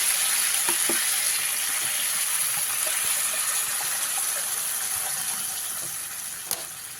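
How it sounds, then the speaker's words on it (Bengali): Masala gravy being cooked for a green banana kofta curry keeps frying and sizzling steadily in the pan while water goes in. The sound stays close and fairly loud, fades slightly toward the end, and no one speaks. "এবারে এর মধ্যে পরিমাণ মতন জল দিয়ে দিল"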